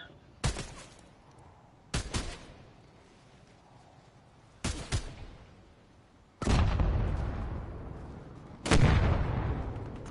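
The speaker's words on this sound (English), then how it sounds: "Grenade launcher." Grenade launcher explosions in an online shooter video game: five sharp blasts at uneven intervals, the last two longer and heavier with rumbling decays that fill the space between them.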